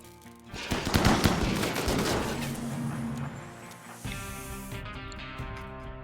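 Squad focus fire in RimWorld, a rapid cluster of sharp gunshots crackling together at moderate volume, trailing into scattered shots and a tonal game sound.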